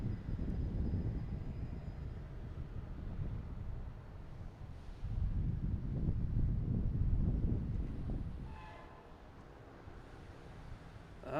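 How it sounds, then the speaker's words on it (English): A Delta A321 airliner taking off at Boston Logan, its low engine roar swelling then fading in the distance, mixed with gusty wind buffeting the microphone. "Next taking off is the Delta A321 heading to Orlando, flight 1570."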